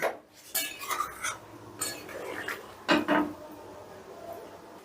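Chana dal curry being stirred in a pot after a spoonful of ghee goes in, with a spoon scraping and clinking against the metal in several short bursts, close and moderately loud, with no talking.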